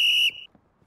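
A referee's whistle starts a race: one short, shrill blast that cuts off sharply, followed by near silence with faint movement.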